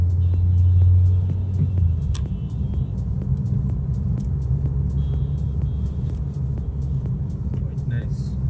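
A Suzuki Swift Anniversary Edition hatchback hums and rumbles from inside the cabin while driving through tight turns, a steady low engine and road drone with occasional rattles, and someone talks over it.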